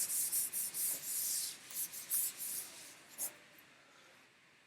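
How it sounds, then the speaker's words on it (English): A board being erased gives rapid, close rubbing strokes in short bursts that slow and fade toward the end, with a brief spoken word. "Let's go ahead and erase"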